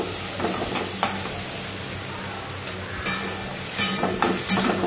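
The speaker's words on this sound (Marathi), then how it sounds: "2-3 आल्याचे तुकडे घालायचे आणि परतायचे" Ginger pieces and cashews, with garlic cloves, sautéing in a pan for dhaba-style matar paneer: a steady soft sizzle runs throughout, broken by a few louder scrapes and stirring clatters.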